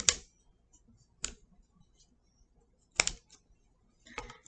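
Scissors snip paper in a quiet room during a home craft project, with four crisp separate cuts spaced irregularly, the last one a short double snip.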